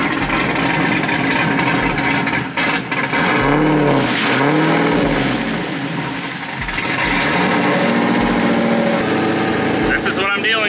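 A Toyota JZX car engine labors up a snowy hill, revving and surging in uneven bursts with wheelspin-like rises and drops, loud and close, with a voice occasionally over it.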